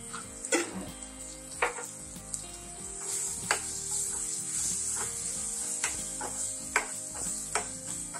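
Masala sizzles in oil while a spoon scrapes and knocks against the pan, a steady frying hiss broken by regular sharp stirring taps, close and with no talking.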